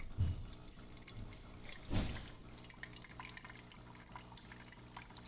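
A DeLonghi Eletta Explore coffee machine running its rinse cycle, with trickling, dripping water into the tray, a brief mechanical thump near the start and another surge around two seconds, fairly quiet overall.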